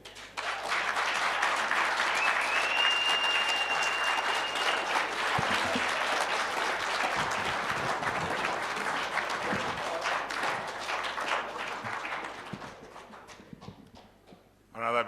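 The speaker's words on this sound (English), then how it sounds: "hand of applause." Sustained applause from a large audience fills the space, steady and dense, then thins out and fades near the end.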